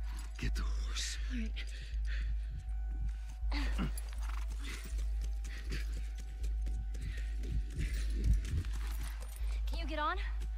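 Horse hooves in the video game The Last of Us clop in a steady walking rhythm, close and clear, over a low game ambience with occasional soft character vocal sounds.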